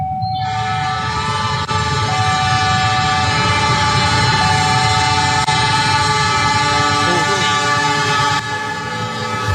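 Train heading from Bandung toward Jakarta passing a level crossing in Cimahi, West Java, a loud close rumble of wagons with a long sustained horn blast running through nearly the whole clip.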